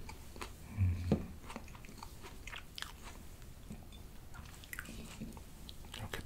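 Someone bites into a firm jujube with a loud, close crunch, then keeps chewing with small crisp crackles and moist mouth sounds that gradually fade.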